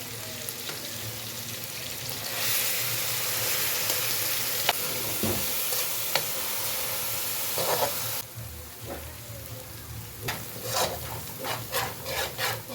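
Spices fry in oil in a pan for a fish korma, a steady close sizzle broken by scraping and stirring against the pan, the hiss easing late as a few sharper clinks and rubs take over.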